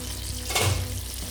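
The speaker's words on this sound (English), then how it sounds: "you cook it in a pan that has a lid because the sauce splutters a lot" Chicken curry sauce splutters and sizzles in a lidded pan, a loud continuous hiss with a brief, stronger burst of bubbling and spitting around the middle. No talk.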